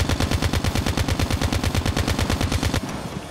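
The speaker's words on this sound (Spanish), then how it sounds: "Y ahora disparamos, pues, a lo lejos." Rapid automatic fire from KN-44 and ICR-1 rifles in the video game COD Mobile, a dense, even burst of closely spaced shots for nearly three seconds before stopping abruptly.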